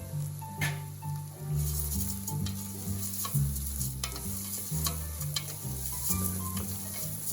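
Rice toasts in a pan for pumpkin risotto, sizzling and crackling steadily up close while being stirred, with no talk over it.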